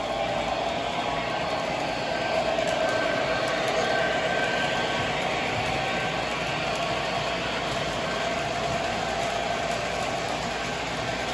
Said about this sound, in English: And I got the other train, the little New Jersey Central switcher, running in the opposite direction.